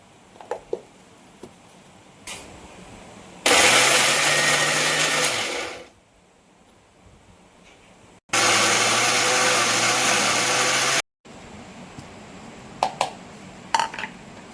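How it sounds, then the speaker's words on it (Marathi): A kitchen mixer grinder grinds grated dried coconut in two loud, steady bursts of a few seconds each, separated by a short pause, with faint handling clatter before and after. "मिक्सर पण लावलंय मी आता मी बारीक करून घेते"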